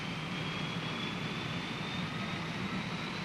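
A gas turbine engine runs with a dense, steady roar and a thin high whine held on top, loud and unbroken throughout.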